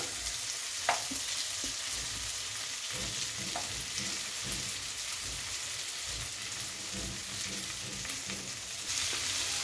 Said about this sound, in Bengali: ঢাকাটা খুলে আমি মাছের ডিমটাকে একটু নাড়াচাড়া করে দিচ্ছি।